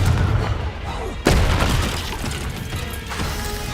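A Confringo blasting spell explodes in the Hogwarts Legacy video game, a loud sudden boom with a sharp crack that rolls into a rumbling, debris-filled tail over continuous low game noise.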